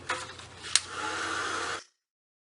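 A hair dryer blows steadily on a recycled cereal box scrapbook cover for under two seconds after a click, then cuts off abruptly into silence.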